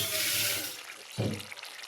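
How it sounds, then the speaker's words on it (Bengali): Water pours into a pot of simmering curry to thin the gravy, a short close splash and gush that starts suddenly and fades over about a second. "একটু সামান্য একটুখানি ঝোল দিয়ে দিই, মানে জল দিয়ে দিই"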